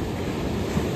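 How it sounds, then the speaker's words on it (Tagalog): Big ocean waves break on a beach during a spring family camping trip, a continuous loud roar of surf mixed with wind buffeting the microphone, with no voices. "Ang laki ng alon guys."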